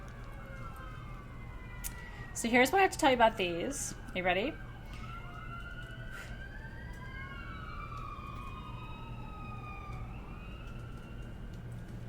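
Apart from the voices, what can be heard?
siren sound effect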